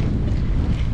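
Strong wind blows at the seaside in the rain, a steady broadband roar buffeting the microphone close up, with no voices.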